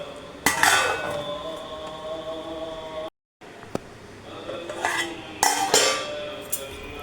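A metal lid goes onto a pot of prawn, potato and chilli curry on a stove, giving a few sharp clanks and clinks, with louder knocks near the start and again later, plus light kitchen rattling.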